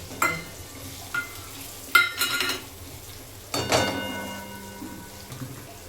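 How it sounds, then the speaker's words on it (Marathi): Curry leaves and chilli powder hitting hot oil for a prawn curry: sharp sizzling bursts as ingredients drop in, each followed by a fading hiss, with light clinks of a pan and spoon, close by with no talk. "कढीपत्ता टाकला. आता हे मिरची पावडर हे"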